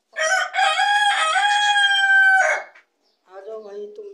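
A rooster crows loudly and close for about two and a half seconds in one long, drawn-out, wavering call. After a short silence, a softer, lower call from the fowl follows.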